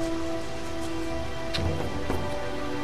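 Rain falls steadily in the German PS3 role-playing game Risen 3: Titan Lords, a soft continuous hiss with a few brief louder gusts, heard alone beneath a steady tonal game hum.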